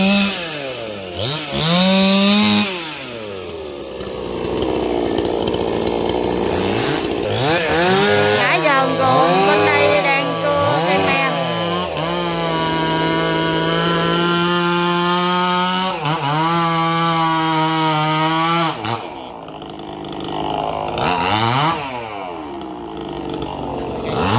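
A chainsaw cuts branches of a large Xà Cừ tree beside a house roof. The engine is loud and close, revving up and down repeatedly through the cut, with brief idling dips.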